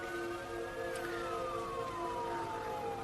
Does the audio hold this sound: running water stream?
no